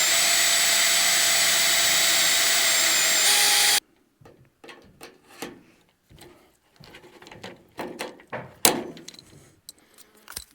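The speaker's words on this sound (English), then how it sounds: "once you drill these holes, that's it. So I'm only putting a rivet in each side basically" A power drill whines steadily as it bores rivet holes through cabin window trim, then cuts off abruptly, followed by scattered clicks, taps and handling clatter.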